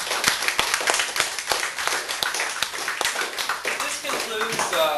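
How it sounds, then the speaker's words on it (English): Audience applause at the close of a candidate forum segment, a dense run of clapping that holds steady and loud throughout. "Let's give a round of applause to these candidates."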